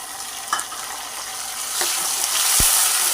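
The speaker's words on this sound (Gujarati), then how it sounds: "તો આપણી ડુંગળી સરસ સંતળાઈ ગઈ છે હવે હું આની અંદર ટમેટા એડ કરી દઈશ" Tomatoes hit a pan of sautéing onions, bringing a loud, close sizzle that swells and intensifies, with a few soft knocks and a sharp clink partway through.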